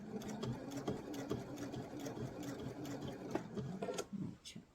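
A sewing machine runs steadily, stitching fabric with a fast mechanical rhythm of repeated clicks over a low motor hum while the material is held straight, close and continuous throughout.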